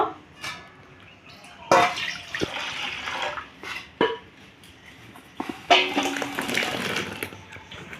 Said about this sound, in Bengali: এই ফুলগুলো আমি হাত দিয়ে খুব ভালো করে ধুয়ে নেব